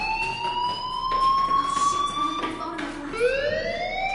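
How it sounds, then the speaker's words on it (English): A fire alarm rings inside a school building in Life is Strange, a loud, sustained electronic tone that bends slightly in pitch and restarts near the end, with no voices. "do you hear that fire alarm?"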